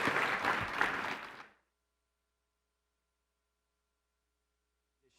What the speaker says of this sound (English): let's have one last round of applause for our awesome judges.